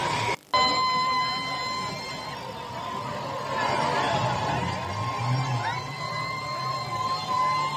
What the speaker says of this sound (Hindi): ये हूटिंग की तस्वीरें हैं, लोग सड़कों पर उतरकर सेलिब्रेट कर रहे हैं।